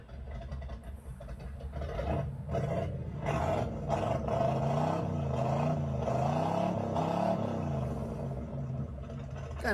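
An Oldsmobile Cutlass with a 400 small-block Chevy engine and 400 turbo transmission revs hard through straight pipes, a loud, deep, continuous rumble whose pitch rises and falls with the throttle.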